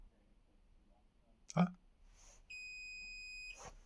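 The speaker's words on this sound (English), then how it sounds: "Turning green and 2 beeps was a good sign." A click, then a single sustained electronic beep from an Anycubic S1 3D printer, quiet and close, with a faint voice nearby.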